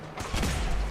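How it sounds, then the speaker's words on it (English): A dense burst of gunfire in the video game Fallout 4, a short loud crackling volley heard alone. "Why are they shooting me?"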